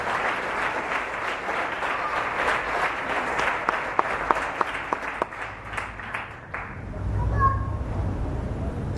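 Applause from a Baptist church congregation during a service, a steady dense clapping filling the room for several seconds before fading out, with scattered louder claps and a low rumble at the end.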